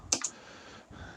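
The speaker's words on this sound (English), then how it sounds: "So, I will start to type this" A few quick clicks from a computer keyboard, two sharp keystrokes close together near the start and then a faint tap, quiet and close with no talk.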